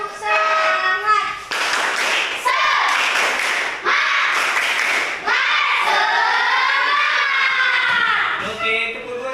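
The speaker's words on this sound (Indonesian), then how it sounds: "Tepuk semangat." A class claps out a rhythmic spirit chant, with loud bursts of hand claps alternating with voices chanting and talking in a classroom.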